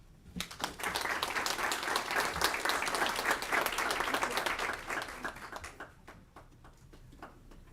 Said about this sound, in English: give a round of applause to Scranton Counseling Center